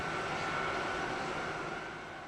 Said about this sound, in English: Concorde is the fastest passenger jet flying.